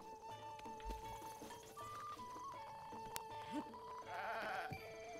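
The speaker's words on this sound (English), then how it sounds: "Try not to kill these goats here." Goats bleat in The Legend of Zelda: Breath of the Wild in Master Mode, a few short cries over a busy layer of game music and ambient effects, with no talking.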